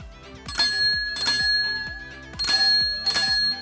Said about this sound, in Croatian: jel radi zvonce, smije probati. Da vidimo.